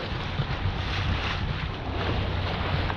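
Wind blowing across a boat on a river, a loud, steady rushing roar with low buffeting rumble and no voices.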